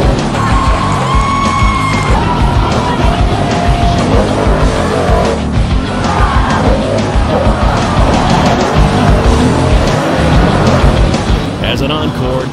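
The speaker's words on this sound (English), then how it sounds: "Tom Mentz makes monster truck history, pulling off the first ever back double flip in his specially modified Max D stunt truck" A loud, roaring engine of the modified Max D monster truck revs continuously during a back double flip at a monster truck freestyle event, with tire noise and a cheering, yelling crowd and announcer voice throughout.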